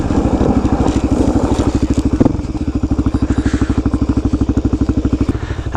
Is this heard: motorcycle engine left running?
yes